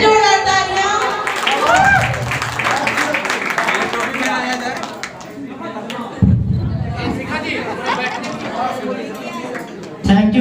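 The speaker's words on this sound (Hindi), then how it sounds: "सूरज जी के लिए फिर से जोरदार तालियां" Loud applause and cheering from a crowd at a university farewell event for Suraj ji, mixed with chatter and a host's voice talking over the clapping throughout.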